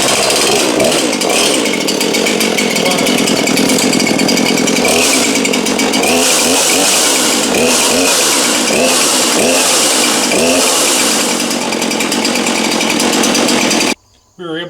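A chainsaw pulled into life at half choke runs loud and close, its engine droning with repeated revving surges before cutting out abruptly near the end.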